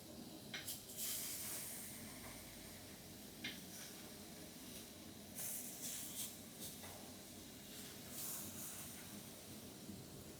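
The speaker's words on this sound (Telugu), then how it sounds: "సో మాడిపోకుండా మనం దీన్ని జాగ్రత్తగా ఫ్రై చేసుకుంటూ ఉండాలి మనం దీన్ని." Eggplant frying in a pan, a constant faint hiss and sizzle with a few brighter crackling bursts, heard alone at low level.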